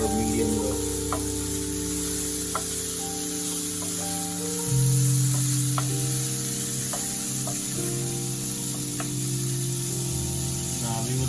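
Gujarati undhiyu mixed vegetable curry sizzling steadily in a pan over a low to medium-low gas flame, with occasional soft scrapes of stirring and a faint background hum, no talk.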